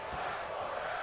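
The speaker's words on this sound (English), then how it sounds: "Crowd shouting fight forever" A wrestling crowd chants and shouts as one, a dense roar filling the arena and heard at a distance without any clear commentary over it.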